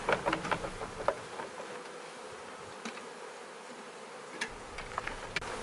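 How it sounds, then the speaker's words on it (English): Honey bees being poured and shaken into a shipping package during queen production, a dense, steady buzzing swarm with a few sharp taps and rattles at the start and scattered through. "You literally can pour bees."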